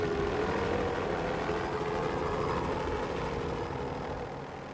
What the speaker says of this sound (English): he's spotted by a passing helicopter